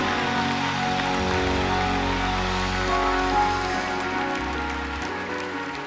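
A church congregation claps steadily in dense, sustained applause during a Sunday sermon, loud and close, with a low rumble of music or voices beneath it.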